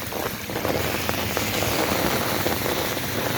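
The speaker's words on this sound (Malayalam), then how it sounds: "നാട്ടിലെ പോലെ മഴയാണ്." Heavy rain pouring during a sudden thunderstorm in Canada, a dense continuous roar of drops hitting surfaces nearby, with some wind buffeting the microphone.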